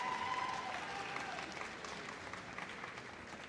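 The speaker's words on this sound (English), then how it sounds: "Wait for the cheers." A large indoor crowd at the Crufts dog show claps and cheers for a pug entering the Toy Group ring, a steady wash of applause that slowly eases off.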